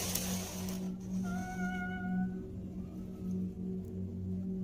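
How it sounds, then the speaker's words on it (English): A cat meowing at a front door, a few thin, faint drawn-out cries over a steady low hum, without any talking. "hearing what sounds like a cat meowing at their front door"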